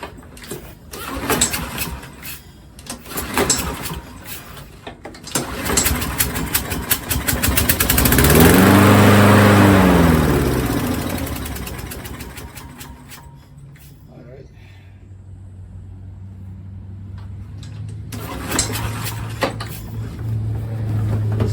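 John Deere JS46 walk-behind mower engine sputtering, then catching and revving up loud before settling into a steadier, rougher idle, close by, with someone talking over parts of it.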